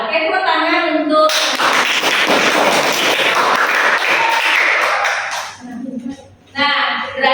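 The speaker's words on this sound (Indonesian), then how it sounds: "tepuk tangan untuk" Classroom of students clapping hands together, a dense burst of applause lasting several seconds, loud and close, with a teacher speaking before and after it.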